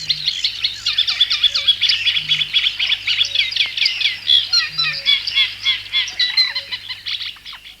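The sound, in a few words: cuckoo calling among birds, with sedge warbler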